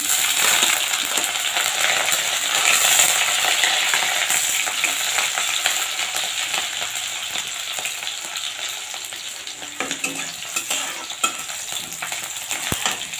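Green chilies tossed into frying onions in a hot pan give a loud, dense sizzle with stirring scrapes that slowly eases over the clip, with a sharp metallic clink near the end; no talk.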